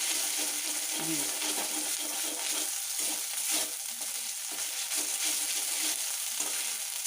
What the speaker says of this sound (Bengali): এই আদা আর কাঁচা লঙ্কা যে ভাজা হয় এর একটা গন্ধ খুব ভালো বেরোয়